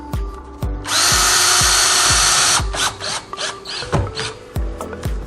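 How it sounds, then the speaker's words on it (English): A power driver sinks a wood screw into a french door hinge: a loud, close whirring burst of about two seconds, followed by several short ratcheting pulses and clicks as the screw seats. "Now I'm going to go ahead and install the wood screw."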